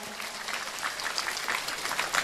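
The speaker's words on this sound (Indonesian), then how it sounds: "saya minta tepuk tangan dulu dong buat Tritunggal" Faint, distant applause from an Islamic gathering of Nahdlatul Ulama members in Lamandau, a soft patter of clapping hands lasting a couple of seconds without any talk.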